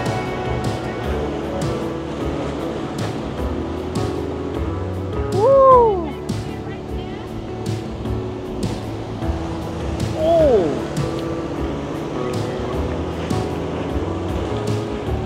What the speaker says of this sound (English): the waves just full on, just cascade down this pile of rocks